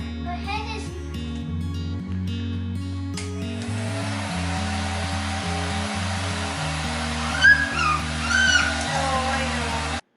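A hair dryer blows steadily on a puppy after her first bath, a continuous airy whoosh mixed with music, and brief high whimpering sounds near the end.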